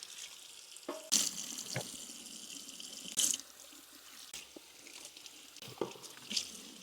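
Water runs from a kitchen sink tap to soak dirty dishes, a soft low hiss broken by a few clinks and knocks of dishes, fairly quiet and close, with no voices.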